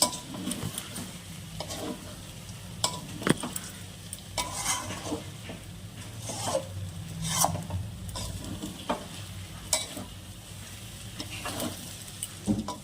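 A spoon stirs spice masala through chicken pieces in a pot for chicken pulao, scraping repeatedly in a steady rhythm with intermittent clinks and a soft sizzle underneath, close and moderately loud, with no talking.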